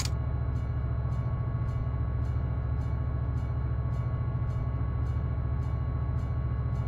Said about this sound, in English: oh, and my wheels are slipping